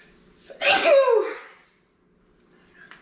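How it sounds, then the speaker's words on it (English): A single loud, close sneeze triggered by peppery food bursts out, followed by quiet with a faint breathy sound near the end. "I gotta sneeze."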